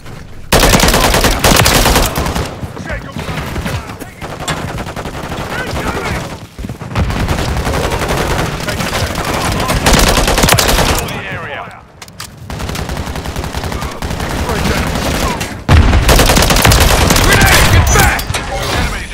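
Sustained automatic gunfire in Call of Duty MW3 in Afghanistan, with loud rapid bursts filling most of the clip, brief pauses between volleys, and shouted soldier callouts mixed in.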